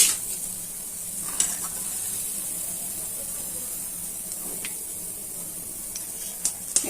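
Bulbula pitha made with jackfruit juice frying in hot oil, a steady bright sizzle and hiss throughout with a few faint clinks, no talk over it.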